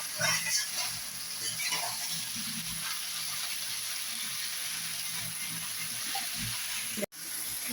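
Beef liver bhuna fries in a pan with a loud, continuous sizzling hiss and occasional stirring scrapes, ending in an abrupt cut.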